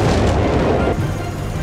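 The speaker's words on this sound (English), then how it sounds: "Amidst the clamor of engines and blasts of cannons, the earth trembles" Dense, continuous rumbling of cannon blasts and explosions fills the whole moment, loud and close, in a World War II battle from the Company of Heroes 3 video game featuring Imperial Japanese forces.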